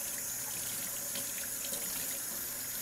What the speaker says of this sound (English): you want to rinse it real well. Once again, using cold water because cold water dissipates the soap much quicker and gets it off